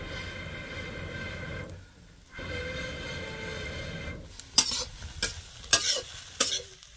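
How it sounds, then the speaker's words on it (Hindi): Pahadi chicken frying in a pan with a steady sizzle, broken by a short pause, then sharp scraping and clattering stirring strokes near the end. "तो इसको अच्छी तरह से भून लिए दोस्तों"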